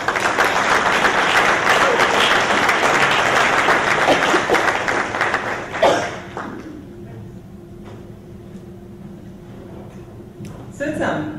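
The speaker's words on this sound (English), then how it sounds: "Please help me in getting a round of applause for Dr. Sean Theriault." An audience at a 2012 undergraduate research reception applauds Dr. Sean Theriault, with dense, loud clapping for about six seconds that then tapers to scattered claps and room noise before a brief final burst.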